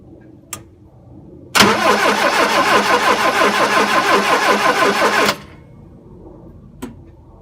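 A 1971 Fiat 850 SC engine cranks without firing. A single burst of rapid, rhythmic starter-motor churning lasts a few seconds and then stops abruptly, with faint clicks before and after.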